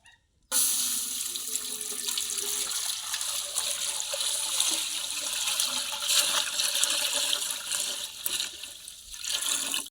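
A steady stream of native cow's milk pours continuously into a pot, a bright splashing rush that starts abruptly and holds for several seconds, close and fairly loud.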